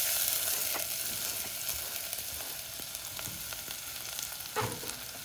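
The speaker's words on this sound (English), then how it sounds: "shallots in there real quick." Shallots frying in a pan give off a steady, bright sizzle with occasional soft pops and clinks from stirring, close up and with no talking.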